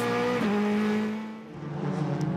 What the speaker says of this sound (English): Down the hill they come, and he's still pushing Oriola.